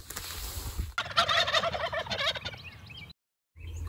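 Wild turkeys gobbling near a hunting blind, a loud burst of rapid, rattling gobbles from close by after a low rumbling start, followed by a brief silence and then a return of background noise.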